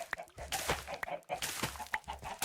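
Chickens clucking in Minecraft, a series of short bursts of fowl clucks repeating at close range through the clip, with faint talk in the background.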